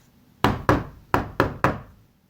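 Five sharp knocks land on a door in an uneven rhythm, close and fairly loud, with quiet in between and no voices.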